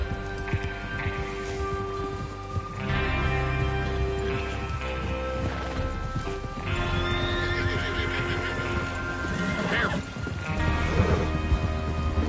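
Several horses in the Red Dead Redemption 2 game whinny and neigh loudly over a steady clip-clop of hooves, with occasional clattering knocks mixed in.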